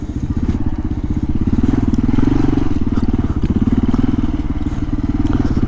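A 2005 Kawasaki KLR 650 single-cylinder motorcycle rides off with a loud, close, rhythmic thumping exhaust, revving slightly up and down with some wind and rattling clatter underneath.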